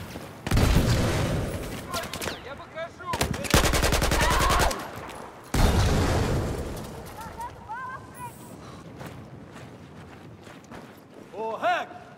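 Automatic gunfire in the Battlefield 4 video game erupts in several heavy bursts with booming shots, followed by sparser distant pops, while players talk over it.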